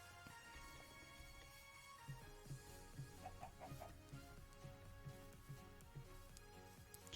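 Chickens in the Minecraft video game, version 1.18, cluck in a faint, regular run of short blocky clucks, roughly two per second, layered over soft ambient game music.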